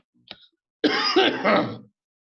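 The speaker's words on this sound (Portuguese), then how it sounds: "é uma tosse danada" A single short throat clear is followed by a harsh, rough cough lasting about a second, both close and loud against silence.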